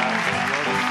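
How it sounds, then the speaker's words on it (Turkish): A studio audience at a Turkish talk show breaks into applause, a dense continuous patter of clapping held at even loudness for a brief moment. "Alkışlarla hepsini yerine gönderin"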